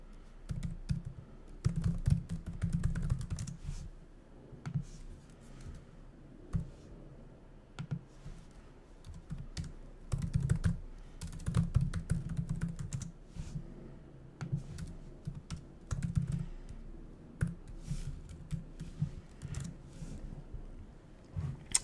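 Steady typing of code on a computer keyboard, irregular bursts of clicky keystrokes with short pauses running throughout, close and moderately loud with no talking.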